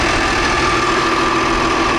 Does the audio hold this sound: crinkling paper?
no